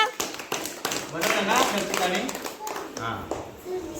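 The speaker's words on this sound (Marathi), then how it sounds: "व्हेरी गुड टाळ्या वाजवा" Children clap their hands in a classroom during a puzzle game, scattered sharp claps in uneven bursts close by, mixed with overlapping voices.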